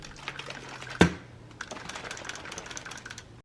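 A spray bottle of homemade shower cleaner, scented with Fabuloso, is shaken up close: one sharp knock followed by a run of quick, light clicking rattles.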